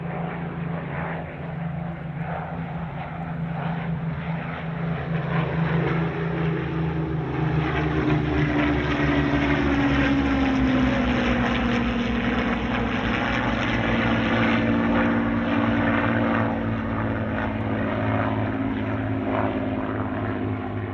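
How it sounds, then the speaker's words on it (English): Three Allison-engined Kittyhawks and a Rolls-Royce Merlin warbird drone loudly and continuously at an airshow, pitch slowly rising and falling as the planes pass, with a deep propeller rumble throughout. "enjoy uninterrupted the sound of 3 Allison engines and 1 Rolls-Royce Merlin"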